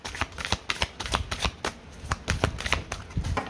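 Tarot cards shuffled by hand in a steady run of quick riffling bursts, close and fairly loud, with no voice over them.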